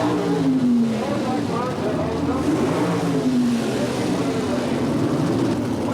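Two Chevrolet Monza gas coupe sedan drag cars sit at the starting line at a 1977 NHRA Spring Nationals strip, their engines droning and revving loudly and continuously with rising and falling whines, while an announcer talks over them.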